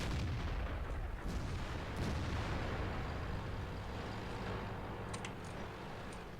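An Object 263 tank destroyer in the World of Tanks video game, heard as heavy booming gunfire over a dense, loud, continuous battle rumble with no talking.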